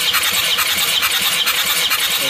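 An Isuzu Panther diesel engine turns over on its starter with cylinder 2 under a compression test for low compression, giving a loud, continuous cranking whir with faint rhythmic pulses and no voices.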